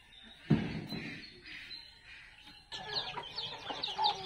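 Hens and chicks cluck and peep softly and intermittently in a farmyard. A dull thump sounds near the start, and a busier burst of chirping follows.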